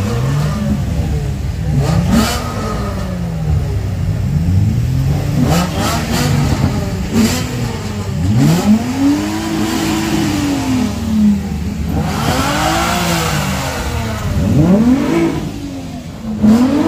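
Car engines rev and accelerate repeatedly at a large outdoor car and motorbike meet, with rising and falling pitch sweeps, some loud and close, others further off, over steady crowd and traffic noise.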